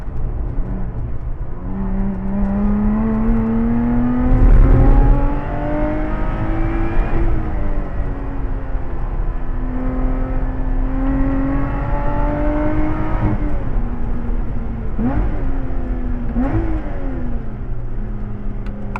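A Lotus Exige Sport 410 on track at Anglesey, its engine droning loudly and climbing through the revs, with sharp throttle blips on downshifts cutting in near the middle and again toward the end, close and continuous.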